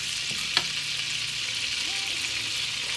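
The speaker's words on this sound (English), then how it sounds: "The only thing I need it for is to melt the butter." Butter melting over a low burner in a pan gives a steady, even sizzle that runs the whole time, with one brief clink near the start and no talking.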